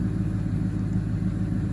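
A Grand Marquis fitted with a Flowmaster Super 10 muffler idles with a steady, deep low rumble, close and continuous, with no voices over it.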